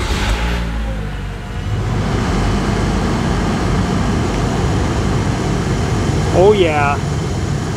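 A Toyota Camry blower motor running with the engine started, a steady broad whooshing hum close by, with someone speaking briefly near the end.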